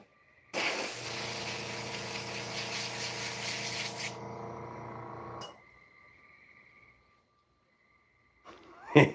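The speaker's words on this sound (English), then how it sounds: "now we're gonna do a light brown. What's up, CR? How are you? Yeah, airbrush" Airbrush spraying light brown paint onto a whitetail buck taxidermy mount: a steady, loud compressed-air hiss for several seconds that drops to a softer hiss and then stops, followed by a brief faint rustle.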